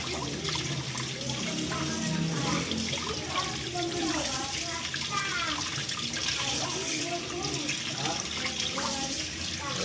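Food is washed at a sink with running tap water, hands swishing and splashing continuously for several seconds while a person talks over it.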